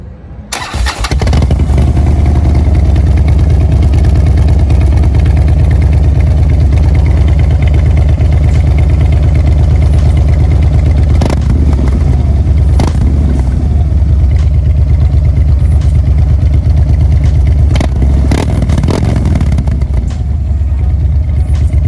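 A Harley-Davidson Street Bob fitted with a Fab 28 2-1 exhaust and Vance & Hines FP3 tune, already warm, cranks and fires at the start, then settles into a loud, steady, deep lumpy idle that runs uninterrupted to the end.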